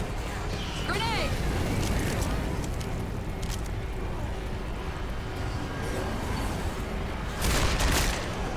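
A grenade explodes in Left 4 Dead 2 during the Port finale of The Sacrifice, a broad burst rising late over constant gunfire, game noise and shouted voices.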